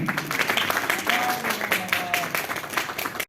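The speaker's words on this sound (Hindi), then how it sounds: "तालियां रुकनी नहीं चाहिए।" Applause continues from an audience at a Republic Day school function, a steady wash of many hands clapping with faint voices mixed in, cutting off abruptly at the end.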